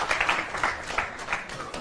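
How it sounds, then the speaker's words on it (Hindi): An audience claps for a two-year-old child quizzed on world flags and countries, a steady wash of hand claps filling the room at moderate volume with little talk over it. "बहुत जोरदार तालियां आप गुरु के लिए बजाएं"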